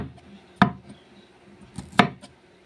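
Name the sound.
chopping green chillies with a knife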